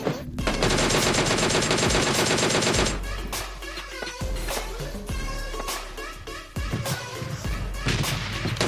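Rapid gunfire rattles almost nonstop as bots are shot down in PUBG Mobile Lite, with dense bursts, single cracks and in-game effects layered loudly together.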